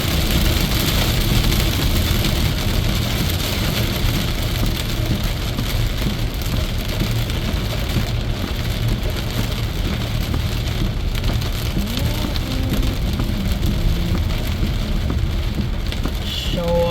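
Heavy rain pounds steadily on a car during a thunderstorm while driving, a dense continuous roar with engine rumble beneath and faint thunder low in the mix, loud and unbroken throughout.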